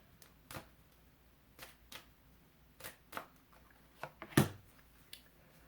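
Tarot cards are shuffled and pulled close up, a sequence of soft, separate flicks and riffles spaced irregularly, with a louder snapping riffle near the end in a quiet room.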